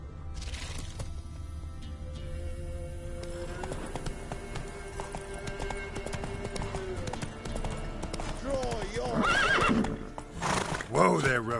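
Roach the horse in The Witcher 3 trots with steady clip-clopping hooves, then gives a loud, close neigh and whinny near the end, game ambience underneath and someone speaking briefly.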